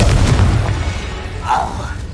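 A Confringo explosive fire spell blasts in Hogwarts Legacy: a loud, deep boom bursts right at the start and its rumble fades over the next two seconds amid game sounds.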